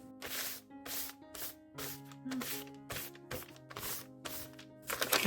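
Brush strokes sweeping excess cinnamon off tea-stained paper, about a dozen short scratchy swipes in a steady rhythm, close and fairly quiet, with no talking.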